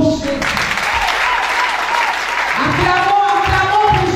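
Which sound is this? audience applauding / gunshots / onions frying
audience applauding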